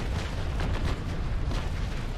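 Ship cannons fire in the naval battle game Naval Action, as the brigantine Le Requin fights the Mercury and a brig. The broadside sounds as a loud, continuous rumbling roar with overlapping booms and no clear gaps.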